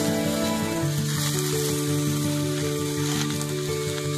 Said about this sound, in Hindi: जब हमारा प्याज लाइट गोल्डन ब्राउन हो गया तो इसमें ऐड कर देंगे ये पालक